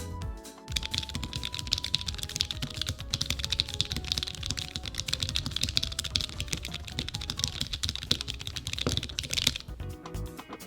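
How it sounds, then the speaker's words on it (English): Rapid, steady typing on a handmade keyboard with lubricated switches, made up of dense close clacks and thocks in a continuous flurry that ends with a few final keystrokes, with nobody talking. "Typing also sounds really great after I lubricated the switches."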